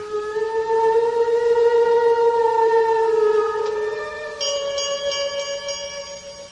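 A bell rings in a 1974 radio drama, a loud sustained tone that hums steadily for several seconds before a brighter, higher ringing joins in near the end.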